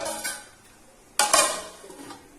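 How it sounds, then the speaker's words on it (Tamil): Parotta kurma masala stirred in a pot with a metal spoon, a brief scrape early on and a louder clattering stir with pot contact midway, nearby and fairly faint, no talking. "இதை ஒரு வாட்டி திரும்ப மிக்ஸ் பண்ணி விட்டு அப்படியே கலக்கி விட்டுட்டு"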